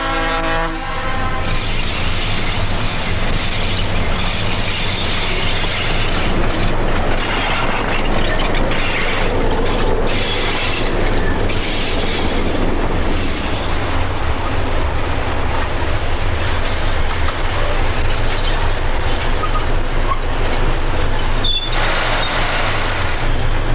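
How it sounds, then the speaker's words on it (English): A South Shore interurban electric train, number 801, rumbles past a waiting train, with a horn blast at the start and a steady loud roll of wheels and cars throughout. "Number 801 comes past the waiting train."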